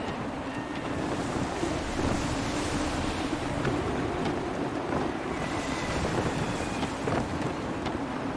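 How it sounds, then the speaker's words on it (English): Gusty wind at sea in Assassin's Creed 3, a steady roaring rush of wind over ocean waves and a sailing ship, continuous and fairly loud with no voices. "Wind looks to be shifting. Stay alert, Connor. Gusty winds can be difficult to manage."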